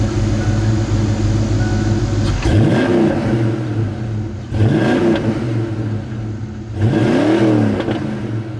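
A 1988 Ford Mustang GT with a 5.0 V8 and Flowmaster exhaust revs three times over a rumbling idle, each blip rising and falling in pitch, loud and close.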